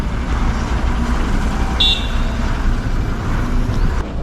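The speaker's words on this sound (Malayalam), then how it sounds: "അപ്പോൾ ഈ കാണുന്നതാണ് ബസ് സ്റ്റാൻഡ് കേട്ടോ" Traffic ambience at Kollur bus stand: a steady broad rumble of engines and road noise with a brief horn toot midway, no talk.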